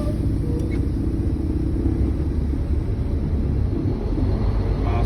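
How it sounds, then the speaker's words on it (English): A Class A truck creeps forward at about 5 mph during an in-cab air brake check, giving a steady low engine rumble and road drone from inside the cab, with no talking. "I'm gonna go forward about 5 miles an hour and check my service brake."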